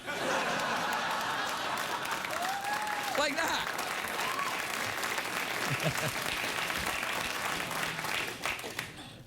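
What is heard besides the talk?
studio audience applause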